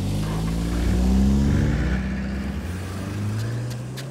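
A car engine runs steadily and pulls away, its low drone swelling and easing over a few seconds with no talk.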